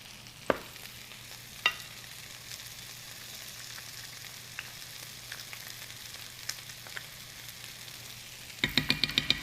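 Tomato paste being stirred in a hot pan gives a soft, quiet sizzle with a few sharp spoon scrapes and clicks, ending in a brighter burst of crackling fry.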